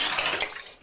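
Hands splash in a dishpan while washing dishes, a brief close burst of sloshing water with faint clinks of dishes and cutlery that fades out.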